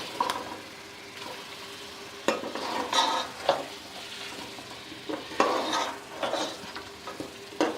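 Chicken karahi with spices and chaat masala is stirred in a pan, giving a soft sizzle punctuated by repeated clanks and scrapes of a spoon against metal, with no voices.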